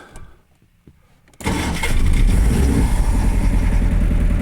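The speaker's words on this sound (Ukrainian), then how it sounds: "Запускаємо двигун." After a quiet moment with faint clicks, a car engine cranks and catches, jumping abruptly into a loud, steady rumble.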